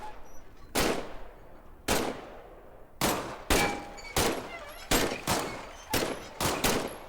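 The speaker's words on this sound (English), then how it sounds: "Squeeze the trigger to fire." Pistol shots ring out in the Medal of Honor: Above and Beyond shooter, eight or so sharp, loud single cracks at uneven intervals, each followed by a short decaying tail.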